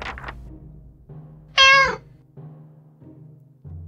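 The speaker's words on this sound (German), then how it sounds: "Ja, komm, wir lassen den Kater rein." A cat in the survival video game 60 Seconds lets out a single loud, drawn-out meow over a quiet, low in-game drone.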